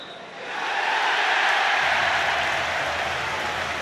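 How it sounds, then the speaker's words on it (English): A football stadium crowd at Watford against Aston Villa swells into a loud, sustained roar after a goal makes it 3-0, rising quickly and holding steady. "And that cheer tells you that it's going to stand."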